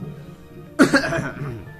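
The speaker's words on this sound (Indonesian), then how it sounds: "cuman agak batuk" A single sharp cough breaks a quiet moment, close to the microphone, trailing off into a brief rough exhale.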